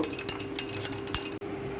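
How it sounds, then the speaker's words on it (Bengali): A spoon stirs cornflour into milk in a pot for homemade chocobar ice cream, clinking and scraping against the vessel in quick, repeated strokes before a brief break near the end. "কর্নফ্লাওয়ার দিয়ে ভালো করে দুধটার সঙ্গে নেড়ে মিশিয়ে নেব"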